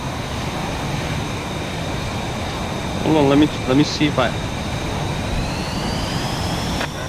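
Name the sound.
jet afterburner roaring in video game VTOL VR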